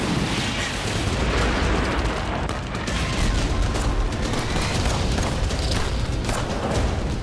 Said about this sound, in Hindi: चारों तरफ वेस्ट बैंक का इलाका फायरिंग और बमबारी से गूंज